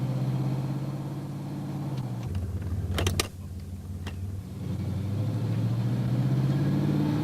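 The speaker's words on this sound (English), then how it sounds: "First, let's road test the vehicle to see if the transmission is in good working condition." Steady low engine rumble and road noise from a vehicle on a road test, checking that its 200-4R four-speed automatic transmission shifts properly; the drone continues throughout, with a brief mechanical clatter midway and a shift in pitch.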